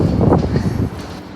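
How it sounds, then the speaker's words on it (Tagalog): Strong wind roars against the microphone in a brief, loud rumbling gust that eases off toward the end. "The wind is too strong."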